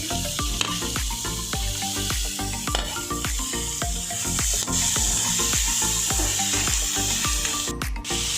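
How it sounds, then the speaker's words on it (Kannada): Capsicum fries in a pan for a bread toast topping, with a steady close sizzle and occasional stirring under continuous background music. "ಈಗ ದಪ್ಪ ಮೆಣಸಿನ್ಕಾಯಿ ಸೇರಿಸ್ತಾ ಇದ್ದೀನಿ"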